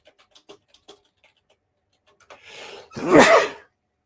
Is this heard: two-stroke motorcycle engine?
no